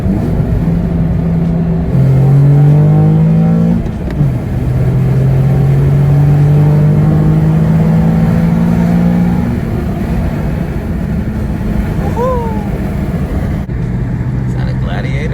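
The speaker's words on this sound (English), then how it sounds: "A little second gear pull for y'all." A car pulls hard in second gear, the engine note rising steadily under load, dropping at the shift and climbing again, heard from inside the cabin with a person talking over it.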